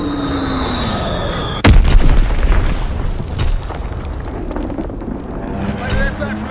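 A loud, sudden Azon bomb blast in Call of Duty, a single heavy boom that decays into a long rumbling tail beneath game ambience, with a voice speaking in the background.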